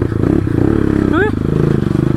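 A dirt bike engine runs close by with a steady throbbing drone, briefly revving higher partway through.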